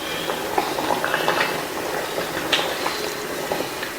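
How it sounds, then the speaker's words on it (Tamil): Tomato kuzhambu curry boils in a pot, a steady bubbling simmer with soft pops and occasional light clinks, close and moderately loud with no voices. "போக ஒரு 2-3 நிமிஷத்துக்கு கொதிச்சிட்டு இருக்கட்டும்"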